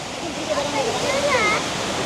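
Water pours from the opened Muthaiyankattu reservoir tank in a steady, loud rushing roar, with faint voices mixed into the flow.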